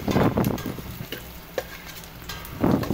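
Ginger being stirred into garlic and onion frying in a pan for dinuguan, with a sizzling hiss under scraping spoon strokes that come in bursts at the start and again near the end.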